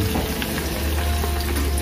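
Anchovy bakwan fritters fry in hot oil, a dense continuous sizzle that is close and steady, with nothing else heard over it.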